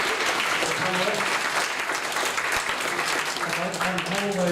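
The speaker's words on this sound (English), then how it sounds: "I'd like you to give a big round of applause in BBC's tradition to the panelists." Audience applause for the panelists at a health conference session in Dhaka, a dense steady clapping under murmured voices and talk throughout.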